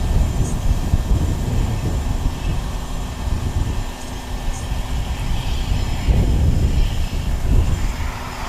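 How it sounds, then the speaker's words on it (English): A Cessna 208 Caravan turboprop heard at Wellington Airport, a steady low engine rumble and drone sustained throughout, swelling slightly toward the end, with no talk. "I think it's a Cessna 208 Green Caravan."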